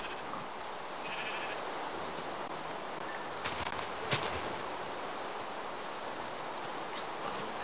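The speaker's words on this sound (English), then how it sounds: "I'm gonna kill these sheep." Sheep bleat in a blocky multiplayer video game over a steady hiss of background noise, with a couple of short, distinct cries standing out from the low, constant bed.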